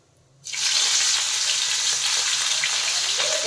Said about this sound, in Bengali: এবার আমি চিংড়ি মাছগুলো দিয়ে দেবো